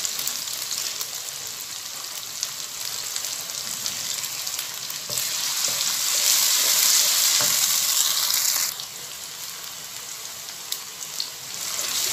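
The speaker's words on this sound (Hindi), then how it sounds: "अब हम इसको भूनेंगे।" Radish and spinach frying in a pan, a steady loud sizzle with stirring that swells in the middle and then eases back, heard close up with no talk.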